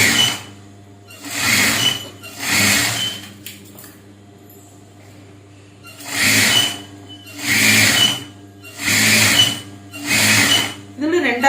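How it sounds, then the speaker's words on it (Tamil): A sewing machine stitching a blouse runs in loud, close bursts of rapid whirring, three, then a pause, then four more, with a faint voice in the quiet gap. "தையல் போட பாருங்க. எல்லாத்துலையுமே நம்ம 2 தையல் போட்டு விடணும்."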